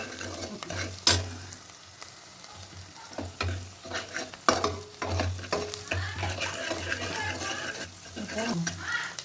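Tomatoes sautéing in a pan while a ridge gourd kadaisal is being made, with a soft sizzle beneath irregular scraping stirs and clinks of a spoon, and a low steady hum from the kitchen in the background.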